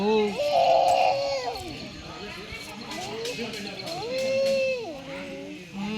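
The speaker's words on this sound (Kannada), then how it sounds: "ಬೈಲಿ ಡಾಗ್ ಬೈಲಿ ಕ್ಯಾಟ್ ಐತೆ ನೋಡಲ್ಲಿ ಕ್ಯಾಟ್ ಅಮ್ಮ ಕ್ಯಾಟ್ ಬಂದೈತಲ್ಲ" A cat gives two long, drawn-out meows a few seconds apart, close by, with faint background noise between the calls.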